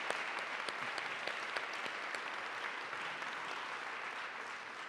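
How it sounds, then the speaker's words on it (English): At a Friday forum in Oregon, a roomful of people claps for a group of advocates, a steady, even patter of many hands that sounds somewhat distant and subdued for five seconds. "let's give them a round of applause"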